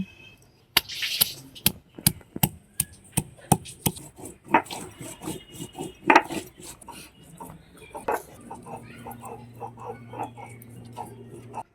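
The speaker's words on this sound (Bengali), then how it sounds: "আমি অল্প একটু জিরে বেটে নিচ্ছি আদাটা আমি এর সঙ্গে বেটে দিচ্ছি" A cook grinds cumin and ginger into a spice paste on a grinding stone, with rhythmic scraping and knocking strokes, a regular series of sharp hits that loosens into softer rubbing, close and fairly quiet.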